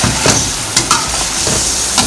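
Onion and yogurt frying and being stirred for a village-wedding-style degi korma, giving a steady loud sizzle broken by occasional scraping strokes of the spoon against the pot.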